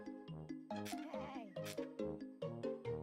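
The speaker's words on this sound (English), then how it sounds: "Oh, it's a sheep." A series of short, nasal sheep bleats in a video game repeat in quick succession, clear and close, with one longer wavering cry in the middle.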